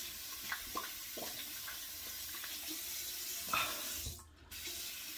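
Water runs from a bathroom tap while a safety razor and shaving brush are being used, a steady moderate hiss with a few small clinks and splashes, briefly dropping near the end before resuming.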